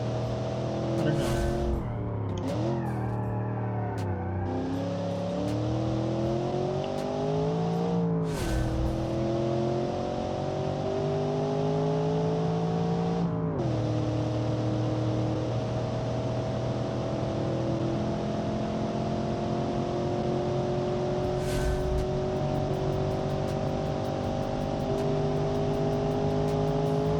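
A 1990 super sedan's engine revs loudly and continuously during a test drive, its pitch rising and falling through gear changes with a steady, close, droning tone throughout.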